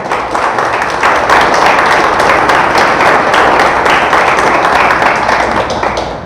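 Church congregation applauding God together, a loud, steady wash of many hands clapping close by, holding evenly for several seconds before easing slightly at the end.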